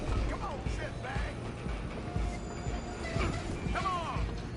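A train rumbles and clatters along the tracks in Red Dead Redemption 2, with metallic wheel squeals and mechanical knocks, while shouting voices cut in over the running noise.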